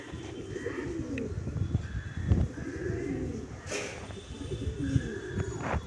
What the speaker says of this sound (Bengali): ফুলশিরা পায়রা।